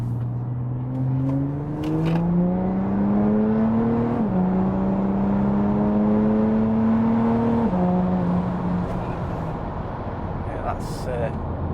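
An Audi A5 3.0 TDI diesel tuned to 395 bhp accelerates hard, its engine note climbing steadily through two gear changes with brief dips between, loud and close, with someone talking over it.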